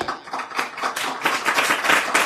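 A small crowd in a room claps steadily, a dense, close patter of many hands at moderate loudness with no voices over it.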